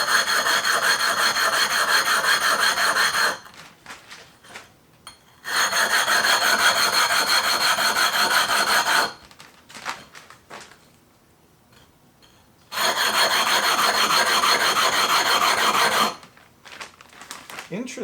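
Gritty rhythmic scraping of a 6-inch glass telescope mirror being ground with 80 grit, loud and close in long continuous strokes, with two quiet pauses and no talking.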